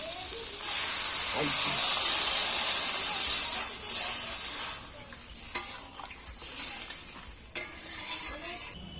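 Water poured into a frying pan of egg and jackfruit curry with tomato and potatoes, a loud bright sizzling hiss that surges, holds for several seconds, then settles into softer bubbling with a few clinks of a spoon.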